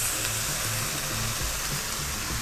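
Fish sauce fries in a hot pan for Kapampangan-style batchoy, giving a dense, constant sizzling roar up close with no pauses.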